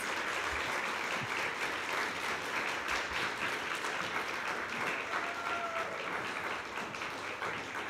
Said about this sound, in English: Let's have a big round of applause to all of our outstanding nominees.